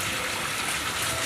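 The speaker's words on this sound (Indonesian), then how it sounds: "pancuran dari sumber Sigit ya." Water pours steadily from a spout fed by the Sigit spring, a continuous close, full splashing gush with no break.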